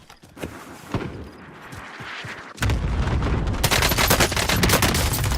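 Rapid automatic gunfire and heavy booms in a Warzone battle royale match, starting with scattered shots and then swelling into a loud, continuous barrage of overlapping bursts and explosions.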